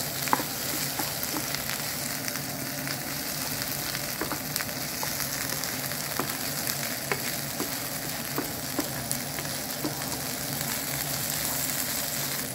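Pepper paste sizzles and fries in a pan for a chickpea curry, a steady crackling hiss with occasional stirring scrapes, close and continuous with no talking.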